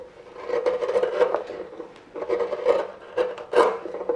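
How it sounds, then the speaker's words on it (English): A hand tool shaves wood from an elm bowl, giving rhythmic rasping scrapes in three bursts of strokes, close and fairly loud, with no talk. "Just kind of shaving wood off."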